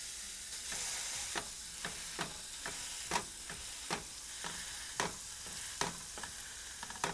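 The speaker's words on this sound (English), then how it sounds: "Listen to that sizzle." Food sizzles steadily in a pan with a constant hiss, punctuated by irregular sharp clicks and scrapes of stirring; no one speaks.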